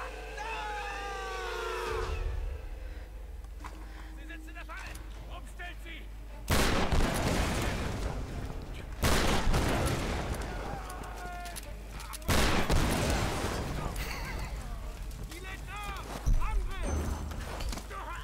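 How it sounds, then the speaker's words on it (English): Gunfire in the video game Tomb Raider (2013) comes in loud bursts and volleys, several heavy barrages spread across the stretch, with someone speaking intermittently between and over the shots. "Where am I being shot from?"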